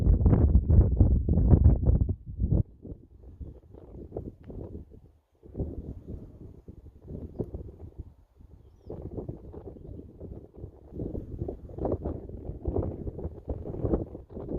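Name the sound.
wind blowing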